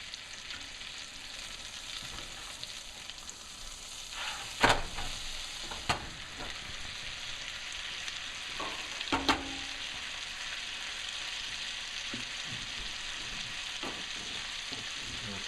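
A delicate lingcod fillet sears in a hot frying pan, giving a steady, even sizzle and crackle throughout, with a few soft clinks and taps of a utensil on the pan.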